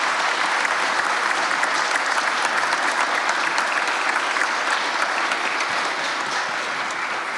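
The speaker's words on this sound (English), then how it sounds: "please, in the audience, give a round of applause to all the panelists who were so brilliant" Sustained audience applause after a business forum panel on economic priorities, dense and steady clapping from a large crowd filling the room at even loudness throughout, with no talk over it.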